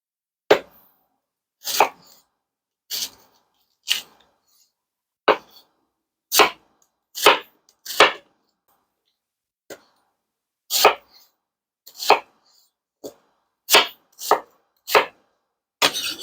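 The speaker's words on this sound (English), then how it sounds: "Last but not least, our onion. I'm going to cut off the top and the bottom, as well as that first outer layer." A knife chops through an onion on a cutting board, making sharp, distinct cuts at an irregular, unhurried rhythm with clear silence between strokes and no talking.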